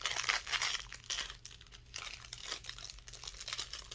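Tightly packed jewelry packaging, holding a ring, crinkles and rustles steadily as it is unwrapped. The crackling runs close and continuous for several seconds, with brief dips between handfuls of plastic.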